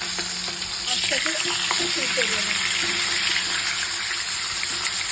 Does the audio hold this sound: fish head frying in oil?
yes